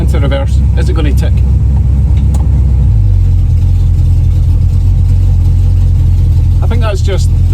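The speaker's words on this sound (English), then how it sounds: "I think that's just the back of the exhaust I'm hearing." Small-block Chevy 350 V8 with a leaking exhaust header, running loud and close with a deep idle, a rise in rumble about midway, and a person talking over it at the start and end.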